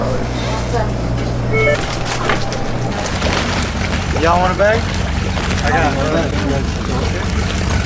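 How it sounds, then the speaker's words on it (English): A loud motorboat engine drones close by on Lake Mead, a steady low hum under people talking nearby, easing off partway through. "That guy's boat's loud in the background"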